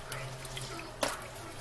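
Collard greens being rinsed in a sink of water for a soul food recipe, making low, steady watery swishing with a sharp splash near the end, with soft background hum and no talking.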